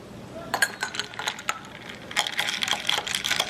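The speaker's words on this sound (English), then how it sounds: "Give it a stir." A straw stirred in a glass of honey-sweetened drink gives quick, irregular light clinks and rattles against the glass, close and fairly soft.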